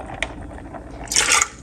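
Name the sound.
water being poured into pan with lentils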